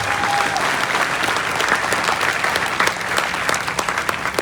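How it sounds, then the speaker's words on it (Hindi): An audience at a talk breaks into loud, sustained applause, a dense wash of clapping that holds steady for several seconds. "तालियां जोर से होनी चाहिए"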